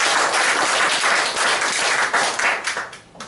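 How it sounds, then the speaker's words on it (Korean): Dense, sustained audience applause at a concert-style talk event, loud and even, tapering off toward the end. "그래서 박수 한번 치시려고 했습니다"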